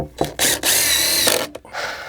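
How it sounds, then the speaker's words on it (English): Power drill driving screws into a window frame during a tiny house window install, several close, loud whirring bursts of varying length with brief stops between. "And I'm gonna put in a couple more screws."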